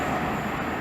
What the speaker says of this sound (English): the delayed 1342 East Midlands train service from Sheffield to London St Pancras